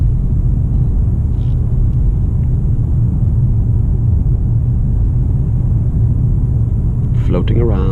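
Steady low cabin rumble inside a 2019 Mercedes-Benz CLS 350d 4Matic coupé cruising on the road, continuous and loud, with a brief brighter burst of passing noise near the end.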